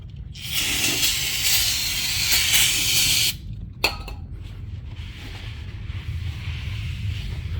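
Brake cleaner sprayed onto a brake rotor of a 2018–2023 Toyota Camry 2.5L, a loud continuous hiss of about three seconds, then a sharp click and a fainter second burst of spray.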